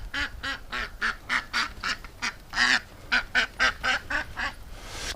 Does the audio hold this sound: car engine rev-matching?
no